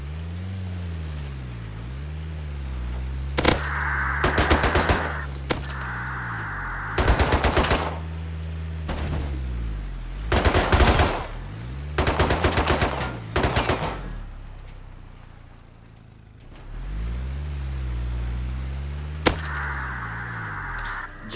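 Bursts of automatic gunfire ring out during a raid on the Arctic Research Base in the game Rust, several loud rattling volleys separated by pauses over a steady droning vehicle engine.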